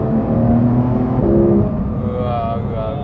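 A Porsche 911 (Type 991) GT3 RS engine accelerating under heavy throttle, a loud close rising howl with strong harmonics that climb in pitch, then settle and climb again, heard from inside the car.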